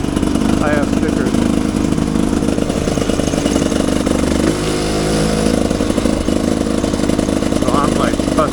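A Rieju Ranger 300 dual-sport motorcycle engine with an FMF Gnarly exhaust idles and revs with a steady mid-pitched rumble, loud and close, with a dip in pitch midway.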